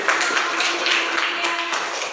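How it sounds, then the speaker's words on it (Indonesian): Children in a sixth-grade class clap their hands together, a quick, uneven burst of many small claps at moderate volume, with a voice briefly audible over them. "Tepuk tangan."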